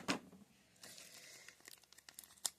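Plastic packaging for nail stickers crinkles and tears as it is opened, a sharp rip at the start followed by scattered soft crackles and a final crisp snap, close and quiet.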